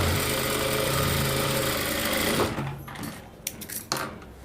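Sewing machine stitching a quarter-inch seam on a blouse hook patti, a loud steady mechanical whir for over two seconds that then stops, followed by a few faint handling clicks and taps.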